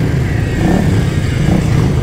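A motorcycle engine runs steadily up close, a low, rough rumble holding an even note without clear revving.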